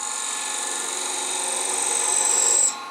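A lathe tool cutting dense dogwood at an angle, giving a steady high-pitched whirring hiss that grows slightly louder before cutting off abruptly near the end, close and without talk.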